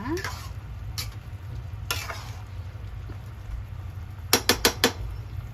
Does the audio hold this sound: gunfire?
no